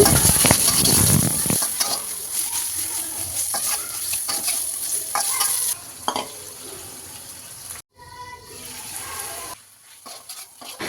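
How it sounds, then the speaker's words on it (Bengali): Chicken pieces frying in hot soybean oil in a karahi, a loud crackling sizzle that fades and thins out over several seconds, with occasional stirring. "তারপর গরম তেলে চিকেনটাকে ভেজে নিচ্ছি"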